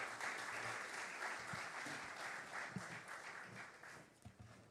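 Audience applause welcoming the keynote speaker, a government minister, at the Biennial Jamaica Diaspora Conference: steady, dense clapping from a large crowd throughout, tapering slightly toward the end.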